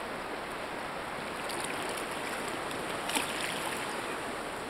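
Water laps and swishes steadily as an inflatable stand-up paddleboard is paddled over a tropical coral reef, with a soft paddle splash partway through and light wind, no voices.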